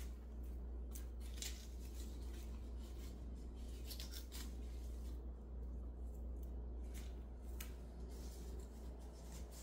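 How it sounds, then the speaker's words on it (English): Scissors snip flower stems in a series of faint, crisp cuts spaced irregularly over a low steady hum, close but quiet. "it's hard to cut with the scissors"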